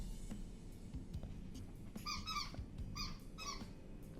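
A rubber squeaky toy squeezed in short bursts, with about four bright, paired squeaks spaced half a second apart, close and fairly clear over a steady room hum, with no talking.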